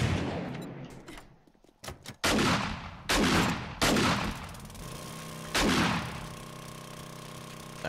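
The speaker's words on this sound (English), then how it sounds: "yeah, I forgot I had the shotgun." A shotgun firing in 7 Days to Die, several loud close blasts spaced a second or so apart, each with a sharp crack and a decaying boom, over a steady background hum.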